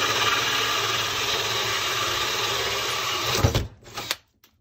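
A power drill spins a hole saw cutting through wood with a continuous buzzing whir that cuts off abruptly near the end, heard close with no talk.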